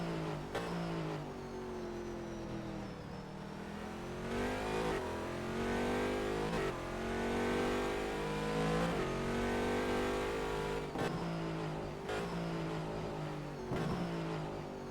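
A race car in a racing video game accelerates hard at Bahrain during an endurance race, the engine note climbing repeatedly through several quick gear changes, loud and alone.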